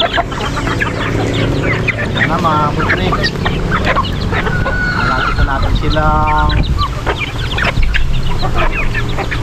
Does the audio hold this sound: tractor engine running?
no